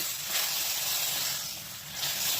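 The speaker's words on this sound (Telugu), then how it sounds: "చూసారు కదా, మరిగిపోతుంది" Sambar of mixed vegetables with sambar powder bubbling in a pot, giving a steady close hiss with a soft simmering rumble underneath, rising and falling slightly throughout, with no talking.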